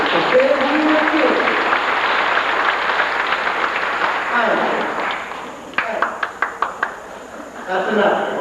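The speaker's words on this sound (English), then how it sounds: "you can applaud for Keith" Audience applause for Keith, a 1983 winner, at an event hall: a broad wash of clapping fades, then a few scattered separate claps near the end, with a voice talking over the start.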